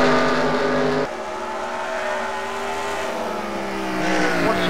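Race cars roar around Bristol's banked short track in a heat race, engines droning loud and steady with rising and falling pitch as the pack passes, a brief dip near the second mark before the noise swells again.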